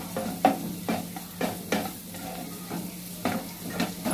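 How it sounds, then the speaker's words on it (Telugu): Cumin seeds hit hot oil already holding curry leaves for a paneer curry, giving a steady close sizzle broken by regular scraping stirs about every half second. "చూడండి, జీలకర్ర వేస్తున్నాను."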